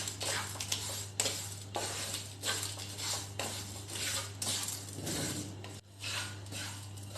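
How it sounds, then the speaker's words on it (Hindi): Dry grated coconut, white sesame seeds and whole spices roasting in a pan for kacchi dabeli masala, with steady scraping and stirring clinks of a spoon against metal under a low kitchen hum. "अब इन सारे मसालों को हम भून लेंगे।"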